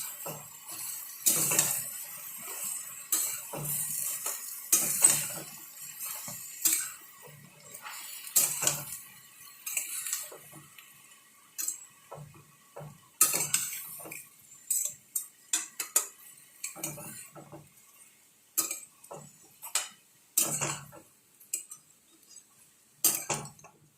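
Food being stirred in a pan, intermittent metallic scrapes and clinks of a spoon against the pan in irregular bursts, close and moderately quiet, no talk.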